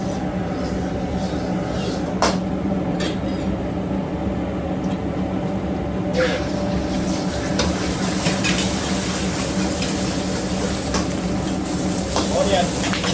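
Crab fried rice stir-fried in a wok: steady sizzling and frying with scraping and clanking of a utensil against the pan, loud and close throughout, with occasional sharper metallic taps.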